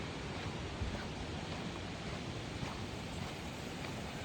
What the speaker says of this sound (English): this is where the water drains into the pond from that little brook that we saw